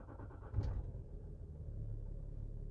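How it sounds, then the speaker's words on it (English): Low, steady rumble of a Land Rover Discovery 4 3.0 TDV6 diesel idling nearby, with a brief click and thump near the start before the drone settles. "So I turn on quickly the car so that you can see how"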